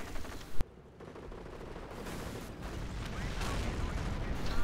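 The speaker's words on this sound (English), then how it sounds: "Artie coming down on the pack." Artillery fire in a tank battle video game, with one sharp close blast near the start followed by a dense, continuous rumble of distant explosions and gunfire building steadily louder.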